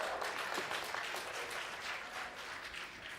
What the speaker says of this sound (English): that was applause if I ever heard